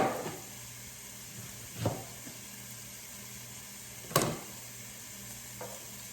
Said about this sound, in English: So my sausage is browning really well